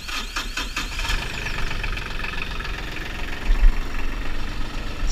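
A New Holland TC30 compact tractor's diesel engine runs loud and close under load as the three-point hitch strains, a steady chugging drone with a slight swell near the end.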